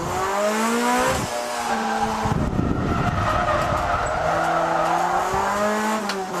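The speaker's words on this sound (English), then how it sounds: "you're throwing it sideways at 3rd gear doing almost 100 k's an hour" A Honda Prelude slides sideways at speed on a narrow single-lane mountain road, its engine droning loudly with tires skidding and squealing through the corners, close and continuous without speech.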